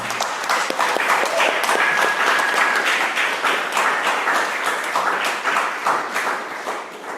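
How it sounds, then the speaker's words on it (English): An audience at a winter festival poetry reading applauds poet Jennifer Horgan, with dense, lively clapping, individual sharp claps standing out, continuing steadily and tapering slightly at the end. "We have a big round of applause, please, for Jennifer Horgan"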